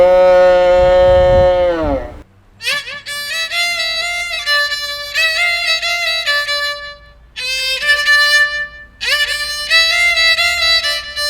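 A violin imitates a cow's moo: a long, low bowed note slides and swells for about two seconds, followed by several loud, bright bowed phrases with brief pauses between them, played alone with no talking.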